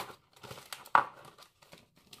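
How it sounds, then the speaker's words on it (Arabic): Thin plastic bag crinkling and rustling close up while food is prepared in a kitchen, with irregular soft crackles and one sharper crumpling burst, no talking. "انا اخذت كيس بلاستيكي باش ندخلو في وسطو"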